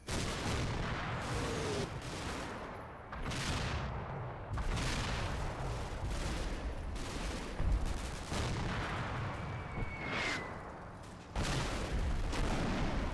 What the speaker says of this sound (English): Oh, a bit of sten fire going out.